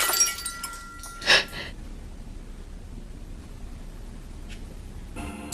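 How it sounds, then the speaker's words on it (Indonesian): A glass bottle shatters in a film scene: one sharp, bright crash with ringing clinks early on, then a long quiet stretch of faint hiss before a brief noisy rustle at the end. "Namun tiba-tiba saja terdengar suara pecahan botol yang mengagetkannya."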